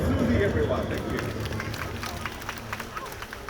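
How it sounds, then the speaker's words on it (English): An outdoor audience at a bird of prey show claps in a loose, moderate round of applause, with a handler speaking over it at first before the clapping thins out. "Round of applause for Susie, everyone."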